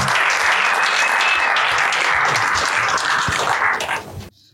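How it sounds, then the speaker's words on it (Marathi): Audience at a Marathi comedy show applauding a performer, a dense, steady burst of clapping from a close crowd that fades out abruptly after about four seconds. "एकदा जोरदार टाळ्या झाल्या पाहिजे शिवम सिंग साठी कमॉन स्टार्ट क्लॅपिंग"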